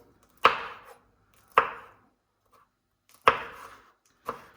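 A knife chops a hot chili pepper on a cutting board: four crisp, close strokes spaced about a second apart, each with a short woody knock, alone with no talk.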